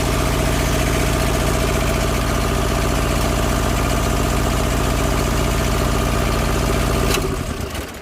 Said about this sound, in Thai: เครื่องยนต์เป็นเครื่องดีเซลนะครับผม